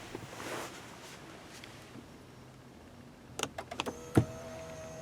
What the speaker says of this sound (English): The seat and steering wheel scoot back to help with easier entry and exit.